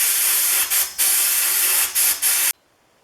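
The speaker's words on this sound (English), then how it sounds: "Next, the lever cap goes into the sandblaster." A sandblaster blasts the lever cap of a Stanley No. 6 fore plane with a loud, close, steady hiss that breaks into short pulses a few times before cutting off abruptly.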